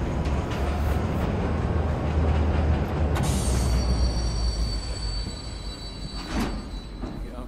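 A train in the video game Wolfenstein: The New Order rumbles past with loud wheel squeals and metallic screeching, sustained throughout and peaking midway.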